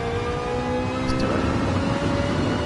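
A GT touring race car engine in a Gran Turismo Sport online race at the Nürburgring, from the in-car view, drones loud and steady with gradually rising pitch and a brief shift partway through, without voices.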